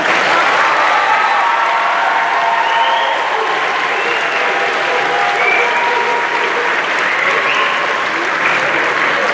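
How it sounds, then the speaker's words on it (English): An audience at a San Joaquin County middle school honors concert gives the young performers sustained, loud applause, a dense, even roar of many hands clapping for the whole stretch, with no talk on top. "Give them a round of applause."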